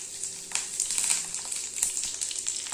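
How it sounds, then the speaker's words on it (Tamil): Peanuts and a sprig of curry leaves fry in hot oil with mustard seeds. The close, steady sizzle has crackling pops and spatters throughout, and no one speaks. "அதுக்கப்புறம் கொஞ்சம் நிலக்கடலையும் ஒரு கொத்து கருவேப்பிலை போடுறோம்."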